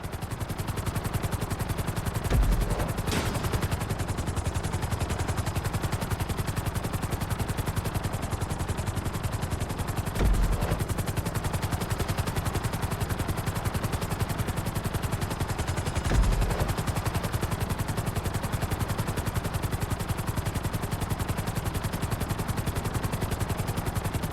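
A helicopter in GTA 5 flies with a continuous, dense rotor clatter and engine drone, steady and loud throughout, with a few brief thumps at intervals.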